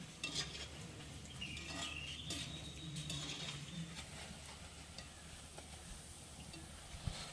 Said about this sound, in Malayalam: അപ്പോൾ നമ്മൾ ലാസ്റ്റ് ഇട്ടത് ഒന്ന് വറുത്ത് കോരി എടുക്കണേ